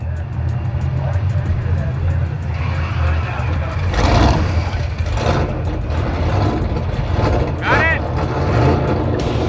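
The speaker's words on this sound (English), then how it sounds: "here comes Mike Finnegan around the corner in the Blasphemi 1955 Chevy" The Blasphemi 1955 Chevy hot rod engine rumbling at a drag event, a low loud roar swelling as it comes around, with people talking over it.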